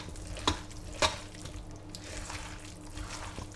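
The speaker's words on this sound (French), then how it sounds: "On mélange le tout." Pumpkin cream being mixed into a crozets gratin preparation, a faint wet stirring and scraping in a bowl with two sharper knocks of the utensil early on, quiet and close.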